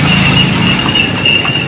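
Hooves of a horse pulling a delman cart in Cianjur, a loud close clip-clop over constant road and wind noise, with no talk.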